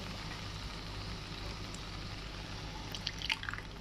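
Rinse water from a bowl trickles and drips into a pan of curry masala for an egg and potato curry, faint and close over a low background hum.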